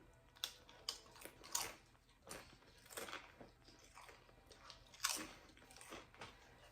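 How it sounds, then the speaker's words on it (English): Doritos tortilla chips crunched while eating, a series of sharp crisp bites and chewing crunches in an uneven rhythm, close to the mic but quiet. "can't stop eating these Doritos"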